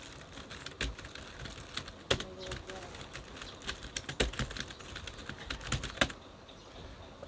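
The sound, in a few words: typing text on a computer keyboard in Microsoft Word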